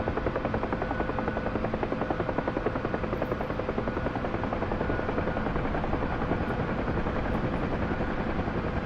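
A helicopter hovering in place, a steady loud rotor thump and engine whine filling the whole stretch without letup, close and constant, no talking.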